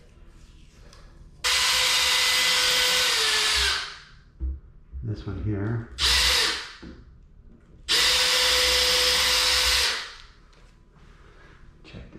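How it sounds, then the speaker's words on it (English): A power drill whirs loudly in two long bursts, a few seconds each, drilling holes in kitchen cabinets, with a brief short spin and clattering handling noises and a quiet spoken remark between them. "I don't wanna drill the wrong hole."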